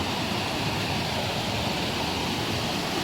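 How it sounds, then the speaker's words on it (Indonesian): Sungai Barat, a very clear river beside farmland, rushes in a steady, loud broadband roar of flowing water, constant throughout with no voices. "saya akan bawa teman-teman lihat dulu suara sungai"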